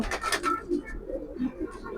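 A raced 2019 pigeon coos softly at close range, a few low murmuring phrases with a little background noise and no talk over them.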